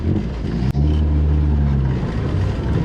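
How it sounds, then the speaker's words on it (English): A Mini's four-cylinder engine runs close and loud with a steady low, throbbing hum, broken by a brief click near the start, and no voices. "Listen to that four-cylinder. What a sound."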